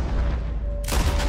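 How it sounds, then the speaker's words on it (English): Gunfire in the Red Dead Redemption 2 online game: a steady bed of game sound breaks into a loud, sustained burst of shots partway through, with no talk. "I'm getting shot from somewhere."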